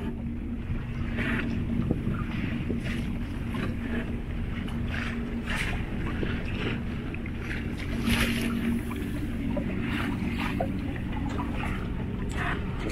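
Sailboat under sail with the engine switched off on a sunny English Channel crossing from Blankenberge to Boulogne, a steady wash of water and wind noise running the whole time with faint talk in the background.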